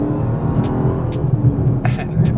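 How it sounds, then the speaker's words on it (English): A Dodge Charger Hellcat Widebody runs at full throttle, its engine giving a loud, steady, deep roar close by for a couple of seconds, with some brief higher rattles near the end. "you just fat-foot it to the floor"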